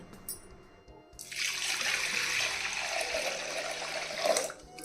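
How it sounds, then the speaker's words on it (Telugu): Toor dal being rinsed under running water, a steady splashing stream starting after a second and continuing loud and close to the end, with no talk. "ఇది రెండుసార్లు శుభ్రంగా కడిగేసి నీళ్లు పోసి నానబెట్టుకోవాలి"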